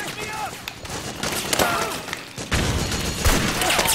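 Machine gun fire and explosions crackle in the Metal Gear Solid 4 video game, irregular bursts of gunfire and booms layered under a dense battle din.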